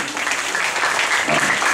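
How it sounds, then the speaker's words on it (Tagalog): Loud, steady applause from a church congregation, continuous clapping filling the whole moment with no speaking voice. "Palakpakan natin ang Panginoon sa buhay."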